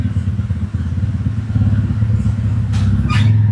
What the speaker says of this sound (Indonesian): Nah itu motor